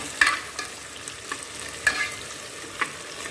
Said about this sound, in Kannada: ಸ್ವಲ್ಪ ಈರುಳ್ಳಿ ಫ್ರೈ ಮಾಡ್ಕೊಳ್ಳೋಣ